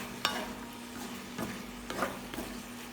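Tofu being stir-fried with sauce in a pan gives a low steady sizzle, with a few soft clicks and scrapes of stirring spaced across the stretch; nobody speaks.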